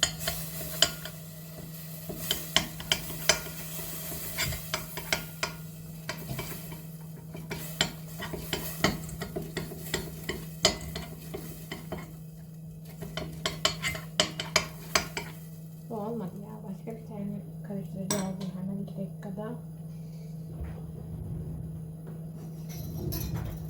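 Food being stirred in a pot on a home stove as more ingredients are gradually added, with a steady run of clinks and scrapes of a spoon against the pot over a constant low hum, fairly close and without talk.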